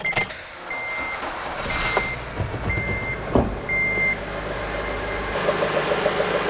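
Honda Element with a new battery, engine running after a jump start: a steady, moderately loud idle rumble with some clanks and handling noise. A repeated electronic beep sounds alongside the engine.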